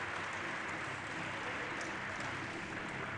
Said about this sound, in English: receiving a warm round of applause